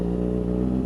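Kawasaki ZX6-R 636 sport motorcycle with an M4 exhaust and Power Commander, idling steadily as it warms up, a close, continuous low engine hum with even rhythm and no voices.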